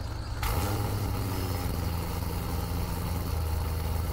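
Car engine idling in the Roblox driving game Greenville, modeled on a C7 Corvette: a steady low rumble holds evenly from start to finish after a quiet first half-second, loud and close with no talking over it.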